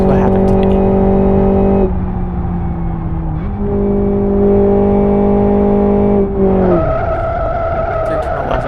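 Race car engine droning at steady revs during an endurance race after a spin and stalls, with brief pitch shifts and a sudden drop near the end; loud and close throughout.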